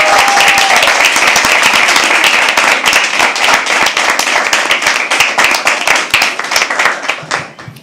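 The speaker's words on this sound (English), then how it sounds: "Can we please have another round of applause for him?" An audience at a live poetry open mic at The Habitat bursts into dense, sustained clapping, loud and close, that thins and fades over the final second.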